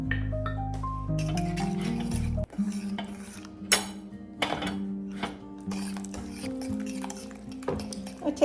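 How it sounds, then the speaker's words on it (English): Melted mozzarella and two eggs stirred in a pan, a spoon scraping and clinking against the metal in irregular strokes, fairly quiet and close, without speech. "So I'm going to stir it a little bit there so that I could mix it really well."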